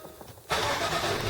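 A car raised off the ground on stands for a test run after clutch work starts up: a brief quiet cranking, then the engine catches into a loud, steady close running roar.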